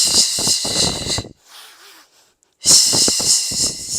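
Forceful breathy exhales during a Pilates ab exercise, two close, loud bursts of rushing air split by a quiet pause, each with a gritty, pulsing texture.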